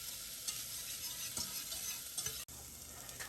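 Garlic and shallots sizzle steadily in a little oil in a pan, a continuous close hiss with a few soft stirring ticks and no voices.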